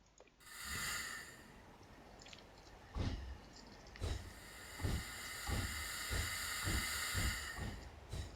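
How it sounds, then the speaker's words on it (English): Train departing a station in Train Simulator 2019: rhythmic steam chuffs building into a steady, evenly spaced beat over a constant hiss, moderately loud. "there's a train leaving before us"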